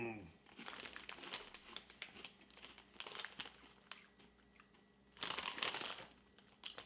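Crinkling of a spicy potato chip bag from an Ohio brand, handled in bursts of crisp rustling that swell loudest near the end, with someone talking over it.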